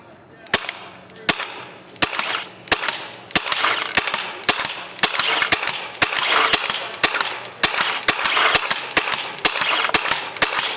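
A Tiberius T9.1 paintball marker with its stock barrel fired at a target about 50 feet away: a long string of sharp, evenly spaced pops, close and loud, over a steady background hiss, with no talk.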